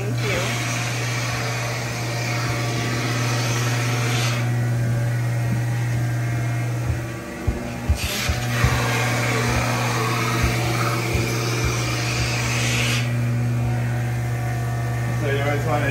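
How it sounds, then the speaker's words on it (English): A ski edge is sharpened in a tuning shop by a machine that gives a steady electric hum and whir, with short bursts of hissing grinding and brief knocks in between. "So I'm going to sharpen your edges and wax your bases so you have a nice smooth glide and easy turning."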